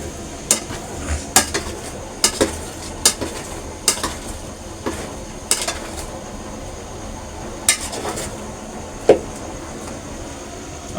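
A spoon stirs masala into five to six kilos of onions in a large pot, with sharp metallic clanks against the rim recurring irregularly over a low sizzling background.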